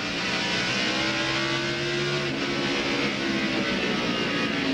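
A Jimmy Dean Pontiac stock car engine at racing speed on a 1999 NAPA AutoCare 500 track, a loud sustained high-revving drone with steady harmonic tones and a slight pitch shift midway.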